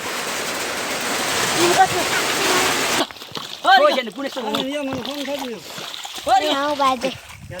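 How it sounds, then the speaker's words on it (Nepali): Heavy rain pouring down in a steady broadband hiss, loud for the first three seconds and then quieter but still continuous beneath people talking nearby. "यत्रो ठुलो पानी परिरहेछ"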